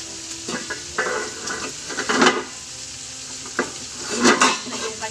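Pork sizzles and fries in a pan for pork binagoongan as its fat renders out, with a steady crackle broken by several louder bursts of stirring and scraping against the pan.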